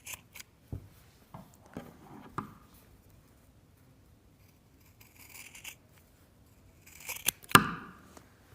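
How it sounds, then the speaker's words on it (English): Scissors snip through fabric for a triangle pencil case, cutting off a corner with a few short, crisp close-up snips, then a pause and a louder final cluster of cuts. "So we're gonna cut from the one marking to the inside marking. And we're gonna do it in one cut."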